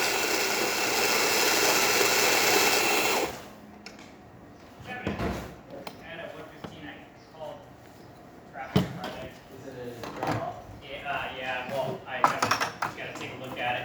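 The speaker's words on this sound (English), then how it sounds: "For the grinder, we put new burrs, we cleaned it up, got some nice fresh coffee in here." A serviced Rancilio Rocky coffee grinder fitted with new burrs grinds fresh coffee beans in a steady, loud whir for a few seconds. It then cuts off, leaving clicks, knocks and handling of the grinder with a voice talking.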